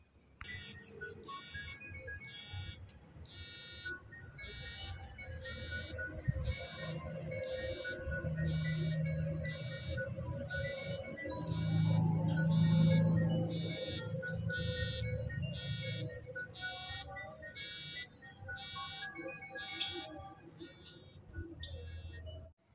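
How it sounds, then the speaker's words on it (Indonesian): A Redmi Watch 3 Active smartwatch alarm beeps in a steady, evenly spaced electronic pattern that repeats for over twenty seconds, over a low background hum. "suara yang dihasilkan dari fitur mode alarmnya"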